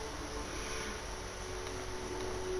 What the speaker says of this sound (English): There is a helicopter in the air